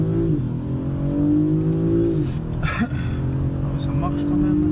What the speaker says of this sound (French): Il y a juste un petit Vito qui va passer et on y go.